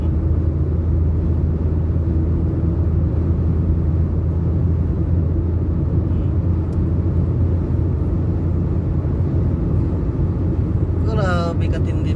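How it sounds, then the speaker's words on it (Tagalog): Sandstorm wind blowing dust without rain, a loud, steady, unbroken roar of low rumbling noise that fills the whole stretch close to the microphone. "Bagyo dito pero walang ulan. Hangin, alikabok."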